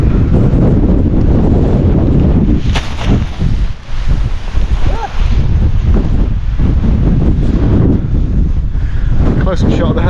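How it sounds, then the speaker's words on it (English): Massive gusts of wind roar across a mountain ridge, loud and buffeting the microphone almost continuously, with one brief lull midway. "I'm sitting down between the massive gusts of wind"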